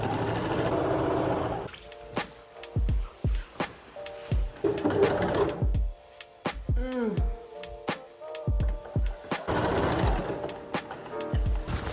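A sewing machine stitching the last seam of a handmade gown, running in short bursts with stops and starts, loud and close, with brief fabric handling sounds between runs.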